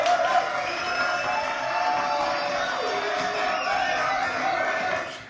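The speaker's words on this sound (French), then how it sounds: "Applaudissements, s'il vous plaît" A studio audience cheers and applauds on a live French talk show, a dense, steady wash of clapping and crowd noise that holds for several seconds before fading at the end.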